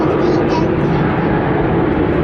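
An airplane passes overhead with a loud, steady broadband roar that holds throughout the short span, its upper hiss slowly fading.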